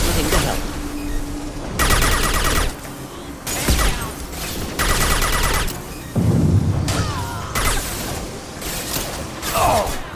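Gunfire in the video game Mass Effect 2, with loud repeated bursts of shots breaking out in clusters over a constant battle din, alongside mechanical clanks and booms.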